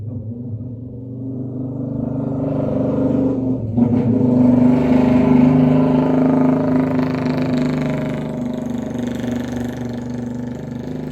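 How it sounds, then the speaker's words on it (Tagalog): A loud motorcycle engine drones steadily close by as it passes, swelling briefly as it revs, then holding a rough, throaty rumble throughout. "Ang ingay ng motorsiklo na dumadaan guys."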